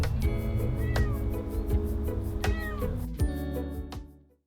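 Cats on Tashirojima, the cat island in Japan, meow close by. Several distinct rising and falling calls overlap, then fade out at the end.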